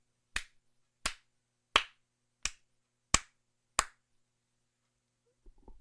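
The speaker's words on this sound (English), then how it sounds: "I'm going to start clapping behind the microphone" Six sharp, evenly spaced hand claps ring out one by one behind a Samson Q2U microphone, close and crisp with silence between them, followed by a faint bump at the end.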